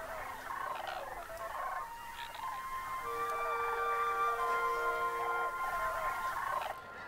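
Sandhill cranes in the wetlands of the Portland-Vancouver area give rolling, trumpeting calls, several birds overlapping in a steady chorus that carries from a moderate distance and fades out at the end.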